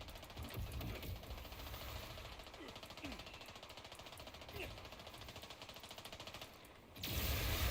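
An SMG fires in Borderlands 4, a Daedalus weapon that keeps shooting without overheating or stopping to reload. The gunfire is a dense, unbroken stream of rapid shots for about seven seconds, with a voice talking underneath, and cuts off abruptly.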